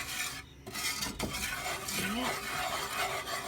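A whisk scrapes and stirs a dry roux in a hot pot on the stove, making a steady continuous rubbing and scraping sound with faint metallic contact; a voice briefly says a word.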